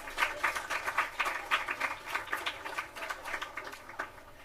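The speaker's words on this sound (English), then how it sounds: "Give them a round of applause." Applause from an audience at a Ministry of Education TVET fair and exposition, a steady patter of many hands clapping at moderate distance, even in level and fading slightly toward the end.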